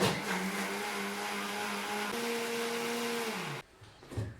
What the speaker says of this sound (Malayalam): അപ്പോൾ അത് നന്നായിട്ട് നമ്മളിങ്ങനെ അരയ്ക്കുന്നത് പോലെ തന്നെ മിക്സി അങ്ങ് റൺ ചെയ്യുക